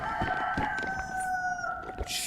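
Chickens crow loudly and close by in the DayZ survival video game, a long sustained cock-a-doodle-doo dominating the scene with faint clucks around it.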